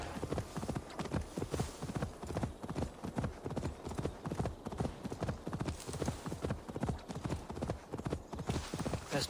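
Horse hooves gallop in Assassin's Creed Valhalla, a fast, loud, continuous drumming rhythm close up that runs the whole time without a break.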